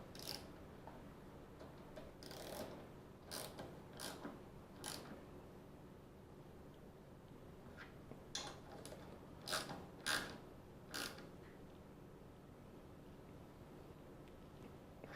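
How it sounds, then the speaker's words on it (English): A socket wrench ratchets as bolts are tightened on a Toro Timemaster mower engine guard, with short bursts of clicking spread through the clip, close and moderately quiet against a soft background hiss. "We'll tighten that up with our socket in just a moment."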